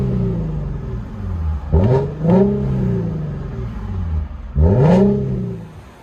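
A 2015 Infiniti Q60 3.7-litre V6 with dual exhaust and a resonator delete idling close by, then three sharp throttle blips, two in quick succession and one later, each rising to a raspy bark before settling back to a burbling idle.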